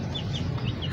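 A chicken clucks nearby in a backyard pet setup, with soft repeated high-pitched calls over a steady low background murmur.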